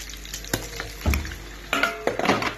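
Liver is lowered into a hot pan and starts frying, giving soft sizzling bursts and spits with a few scraping touches, close by and fairly quiet.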